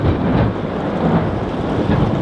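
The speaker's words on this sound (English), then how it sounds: "right now, it's thunder and lightning." Thunder rumbling through a thunderstorm with steady rain, a loud continuous low roar with no distinct single crack, no voices.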